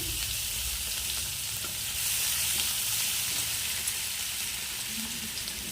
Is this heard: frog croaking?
no